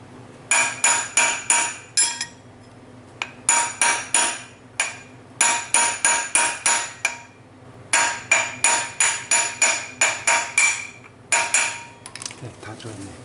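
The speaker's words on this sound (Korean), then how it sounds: "여기 테두리를 콩콩콩 이렇게 쳐주시면 쏙쏙쏙 들어가요" A hammer taps around the rim of a scooter wheel bearing to seat it in the hub. Close, sharp metallic taps come in quick bursts of four to eight, separated by short pauses.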